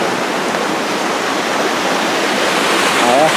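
A river rushes through a forest in El Salvador, a steady, loud broadband wash of flowing water that fills the whole stretch without pause.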